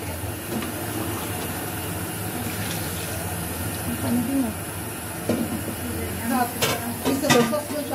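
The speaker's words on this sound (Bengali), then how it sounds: "তো গরম পানিটা দিয়ে আমি ভালো করে একটু নেড়ে ছেড়ে দিব" Hot water goes into a cooking pot of simmered dal and green jackfruit, a steady close pour and hiss with stirring clinks and scrapes near the end.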